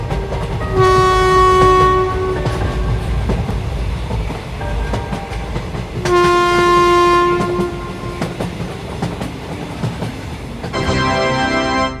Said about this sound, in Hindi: अच्छा हुआ ड्राइवर ने ट्रेन को स्टार्ट कर दिया